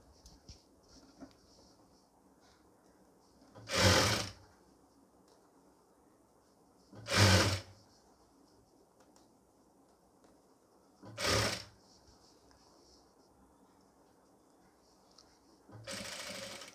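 A sewing machine stitching a pleated nightie runs in four short bursts of about a second each, separated by quiet pauses, close and clear against a faint room background.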